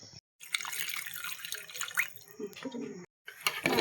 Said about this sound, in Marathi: मी 6 वाट्या पाणी घालणार आहे